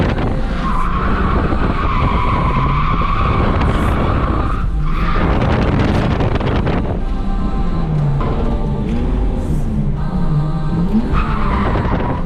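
A drift car spins out during a drift league qualifying session, with sustained loud tire squeal and skidding over a revving engine and heavy wind noise throughout.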